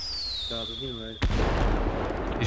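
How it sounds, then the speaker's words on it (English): A firework goes off outdoors near a motel, one sharp bang followed by a sustained crackling burst, heard after a brief stretch of radio-like tones and chatter. "He's shooting off fireworks."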